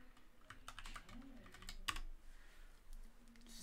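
Keys clatter on a computer keyboard in quiet, irregular taps and short bursts, with one sharper click near the middle and faint low room hum beneath.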